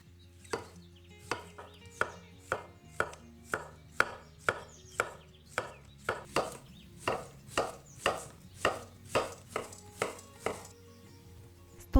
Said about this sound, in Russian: 800 грамм кабачков или цукини порежьте на тонкие кольца.